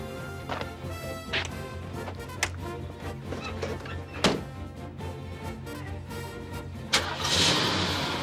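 A truck engine cranks and starts amid a few metallic thunks and clunks, then settles into a low running rumble, with a louder burst of engine noise near the end.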